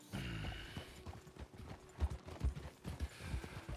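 Horse hooves clip-clop at a steady walking pace in a western roleplay video game, with clear repeated thuds up close and no talking over them.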